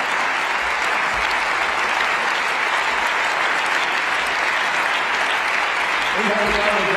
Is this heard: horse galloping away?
no